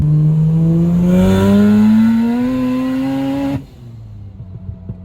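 Mazda RX-8 rotary engine held high in the revs, loud and close, its buzzing tone climbing steadily before cutting off abruptly and dropping to a quiet, uneven burble.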